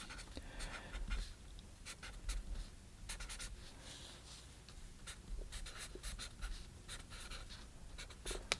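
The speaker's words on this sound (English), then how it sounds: "So the first thing we want to do is we want to do a preliminary sketch." A pencil sketches on printer paper as a preliminary drawing for a watercolor flower painting with a shore bird. Close, faint scratchy strokes come in short bursts and repeat steadily, with no talk.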